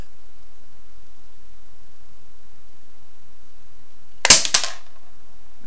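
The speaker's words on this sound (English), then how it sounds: "Heard a nice little pop. Heard it bang." A homemade coil gun built into an Altoids tin fires once after near silence, a sudden sharp pop with a quick second crack right behind it, loud and close, then stillness again.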